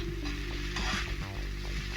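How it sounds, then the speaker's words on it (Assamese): Ginger and garlic paste with green chillies frying in a pan for a simple brinjal dish, a steady close sizzle over a low hum with faint stirring, no voices. "এতিয়া আদা নহৰু জলকীয়া ফ্ৰাই কৰা হৈ গৈছে"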